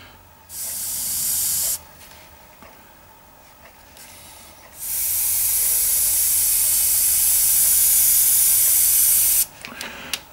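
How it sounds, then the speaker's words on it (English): An Iwata HP-M1 airbrush sprays lines at around 20 psi, giving a short burst of airy hiss, a pause, then a long sustained spray before cutting off, with a final brief puff near the end. "Spraying lines with this airbrush is extremely easy."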